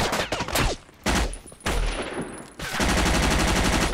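Bursts of heavy gunfire in Battlefield Vietnam multiplayer, loud volleys broken by short lulls, ending in sustained rapid firing.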